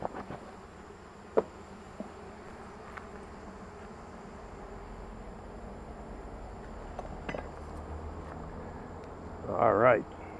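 Honey bees hum at an open backyard hive as it is opened for inspection, a faint continuous drone with a few small knocks and a louder burst of buzzing near the end; no one speaks.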